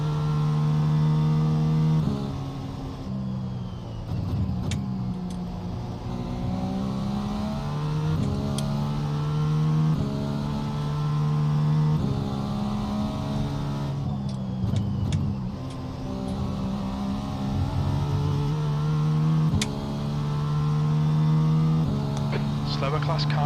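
Race car engines hum and rise and fall through gear changes at a GTP-class endurance event in the iRacing simulator, a continuous layered drone of several cars. A commentator talks throughout over the engine noise.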